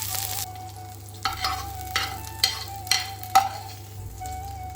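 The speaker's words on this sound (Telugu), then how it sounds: "ప్యాన్లో ఆయిల్ వేసుకొని ఆనియన్స్ ఫ్రై చేసుకోవాలి. కాజు కూడా వేసుకొని ఫ్రై చేసుకోవాలి." Onions and cashews fry in oil in a pan, a steady close sizzle broken by a handful of rhythmic scraping stir strokes, with no voices.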